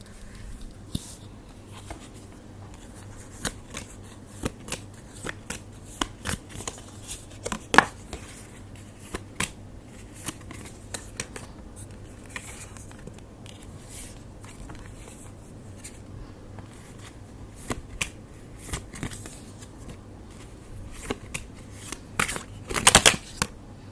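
Tarot cards being shuffled by hand, a long stretch of soft intermittent riffling and slapping clicks, close and quiet, with a sharper flurry near the end.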